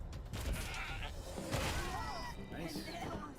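A goat cannon fires in the video game Wasteland 3, giving bleating goat cries mixed with crashing impacts and bursts, with speech over the action.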